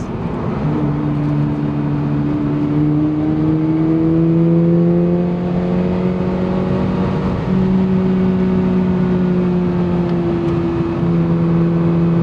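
Toyota GR86 sports car engine hums steadily while driving a twisty road, its pitch rising and falling with throttle changes through the corners, loud and continuous with no talking.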